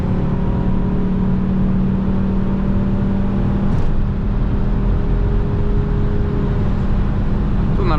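A 1998 Volvo V pulls hard in third gear on a motorway. A loud, steady engine drone and road roar fill the cabin, and the engine tone shifts partway through.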